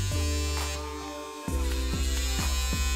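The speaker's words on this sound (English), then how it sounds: "this is what it sounds like when it's pulling off the skin" A PMD microdermabrasion device drags and suctions across facial skin, a steady electric buzz that shifts pitch midway, then pulses in a regular rhythm of bursts; close and alone, with no talk.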